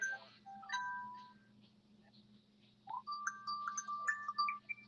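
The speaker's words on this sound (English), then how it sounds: "I'm getting a phone call" A phone ringtone plays for an incoming call in a home kitchen, a faint melodic chirping of short electronic tones that starts, pauses, then resumes in a quicker run.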